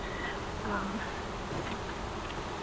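A steady, low buzzing of many honeybees around an open backyard hive, close by, continuous throughout with faint background noise.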